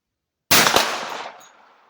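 A single sharp, loud 10mm Bear Creek rifle shot cracks close by, then its echo trails away over about a second outdoors.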